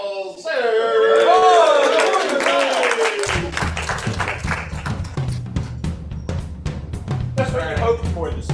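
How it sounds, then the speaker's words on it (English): Warm applause from an audience at a Rotary club meeting, starting under loud cheering voices and then settling into a steady patter of individual claps that continues to the end. "Ladies and gentlemen, please give a warm round of applause to Kyle Sayer."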